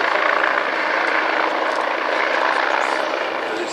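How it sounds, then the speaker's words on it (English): A Navy Wings collection helicopter flies overhead at the Midland Air Festival, its broad, steady rotor roar filling the air at constant loudness and easing slightly toward the end, with no voices. "This helicopter actually flies as part of an extended Navy Wings collection."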